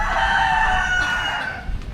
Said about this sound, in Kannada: ಎಲ್ಲೋದ್ರೂ ಕೋಳಿ ಏನ್ರಿ ಹಿಂಗೆ ಹೋಗುತ್ತೆ.